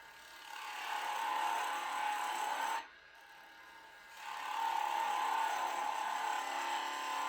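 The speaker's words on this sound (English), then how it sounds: "I've switched to a spindle gouge because I'm trying to do an inside curve" A wood lathe turning a vase while a spindle gouge cuts an inside curve, giving a steady close whirring tone that drops away briefly in the middle before resuming.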